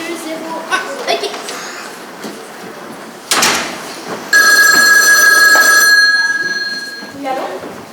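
A telephone rings on the line after a number is dialed, with a steady tonal ring lasting a few seconds, fairly loud over a quiet room with faint background noise.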